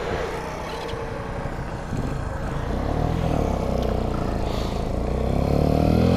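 A 125cc motorcycle of about 7 horsepower rides along, its engine droning steadily and loud up close, with a low rumble that swells as the bike speeds up, and wind noise mixed in.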